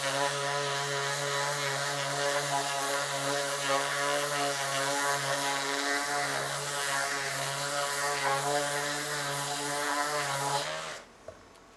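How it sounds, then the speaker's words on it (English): A power sander smooths rough, freshly laser-cut wooden beehives, a loud steady motor whine with a strong buzzing hum that holds for about eleven seconds and then switches off abruptly. "So just take the sander and hit them with a sander for a second."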